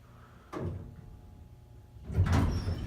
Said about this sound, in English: Instant door close.